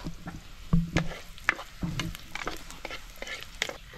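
Garlic and ginger sauté in a pan with a soft, steady sizzle, broken by scraping stirs and light clinks of a utensil against the pan.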